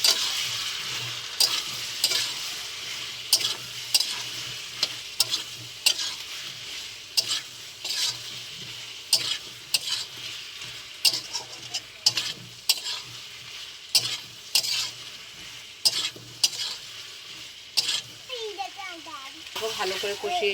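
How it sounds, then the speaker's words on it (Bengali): Spice paste for taro curry being sautéed in a pan, with a spatula scraping and stirring in steady repeated strokes over a soft sizzle, close and fairly loud. "এদিকে ভালো করে একটু কষিয়ে নিতে হবে"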